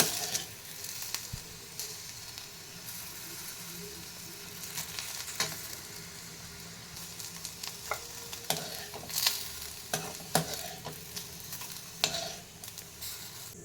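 Steady sizzling of okra sautéing in a pan with occasional stirring scrapes and clinks, continuous and close, with no voices.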